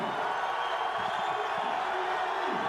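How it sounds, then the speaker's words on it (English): A basketball arena crowd at a FIBA Asia Cup qualifier between Mongolia and Japan roars continuously on its feet, a dense, sustained wash of cheering without pause. "Crowd on their feet. Look at that. Listen to that."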